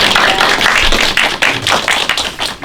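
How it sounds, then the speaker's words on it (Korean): Audience applause for two panelists at the close of a humanities lecture session, steady dense clapping with some sharp individual taps standing out, near and fairly loud, no talk over it. "두 분 패널께 박수 한번 더 크게 부탁드리겠습니다"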